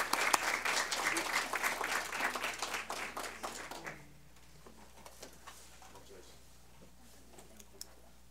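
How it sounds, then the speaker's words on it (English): A round of applause from the audience at a school district board meeting rattles loudly for about four seconds, then cuts off and leaves a quiet room with faint scattered noises. "Let's give them another big round of applause."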